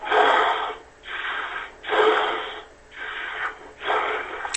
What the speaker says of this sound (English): He's breathing heavy, yo.